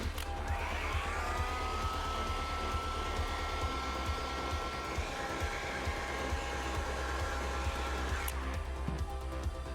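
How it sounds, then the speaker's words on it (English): Electric heat gun blowing hot air to activate glue on a cracked leather car seat during repair, a steady close whooshing whine with a motor hum underneath that cuts off abruptly near the end. "as you see, activate with a heat gun"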